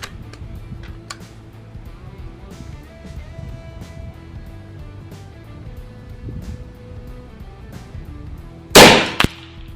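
A single sharp, loud report from an FX Dreamline Power Pup 5.5mm air rifle cracks near the end, preceded by quiet background ticks and faint clicks.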